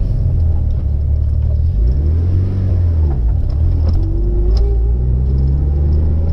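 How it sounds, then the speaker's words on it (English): Mitsubishi Evo 5 modified car rolling over a speed bump, a steady loud engine rumble inside the cabin with pitch dips and swells as it slows and climbs over the bump, no talking. "And we've got a speed bump."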